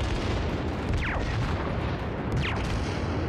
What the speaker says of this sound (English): We're just gonna spread shots over there in that general direction and see how that goes.